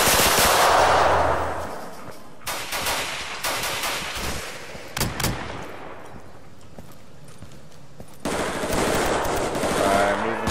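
Loud bursts of rifle fire in the Insurgency shooter game, with short rapid volleys and single cracks separated by brief pauses and a faint voice in between.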